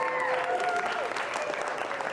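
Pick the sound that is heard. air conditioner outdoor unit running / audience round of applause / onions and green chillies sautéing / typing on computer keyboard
audience round of applause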